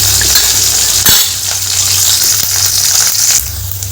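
Onion with curry leaves frying in oil in a pan for rasam, giving a steady, close sizzle with faint stirring clinks and a sharp knock near the start, no talk.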